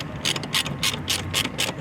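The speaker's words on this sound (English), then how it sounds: "So once they're both started, then you can go ahead and tighten them up." A ratchet clicks in five or six quick bursts, tightening bolts during installation work on a 2024-2026 Porsche Macan Electric; close and fairly loud, with no talking.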